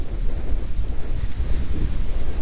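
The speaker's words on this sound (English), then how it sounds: "This wind is absolutely absurd." Strong wind buffets the microphone in an open valley near Bridgeport, California, a loud continuous roar with gusty surges and no voices.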